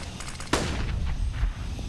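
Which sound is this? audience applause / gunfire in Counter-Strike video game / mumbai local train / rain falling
gunfire in Counter-Strike video game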